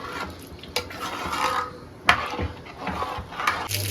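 Milk being stirred in a pot while making paneer, soft scraping and swirling with a few sharp clinks of the spoon against the pot, close and intermittent.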